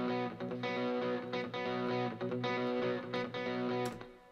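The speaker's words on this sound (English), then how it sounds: "So I put both guitars on at the same time." Two distorted electric guitars from a cover play together as rhythm and lead parts, loud and dense, with rhythmic chugging attacks throughout, then cut off abruptly near the end.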